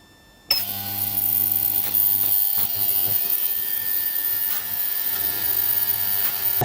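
Ultrasonic cleaner set to 43 degrees with a carburetor inside, switching on abruptly into a steady electrical hum with a buzzing, rattling tone and occasional clicks.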